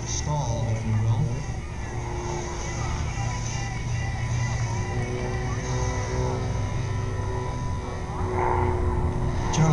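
An aerobatic propeller airplane drones steadily overhead at an air show while performing a snap roll, its engine note shifting slightly, with someone talking over it.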